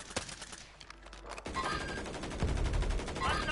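Gunfire from a video game on a train-ride level, with a brief burst and then a dense, continuous rattle of automatic shots that swells louder toward the end.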